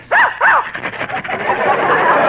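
Two sharp, loud barks from a dog used as a sound effect in a 1950 radio comedy program, followed by softer, muffled voice-like sounds.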